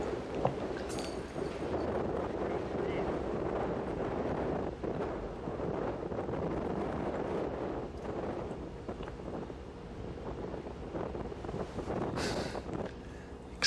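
Wind gusting steadily across an outdoor disc golf tournament course in cold conditions, a continuous broadband roar buffeting the microphone for the whole stretch with no voices over it.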